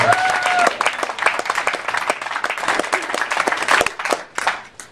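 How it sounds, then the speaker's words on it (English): Applause from an audience at a spring workplace charity campaign event, many hands clapping in a lively, uneven patter that swells and then thins toward the end, with no talking over it. "So I think we need to give Sandy a round of applause as well."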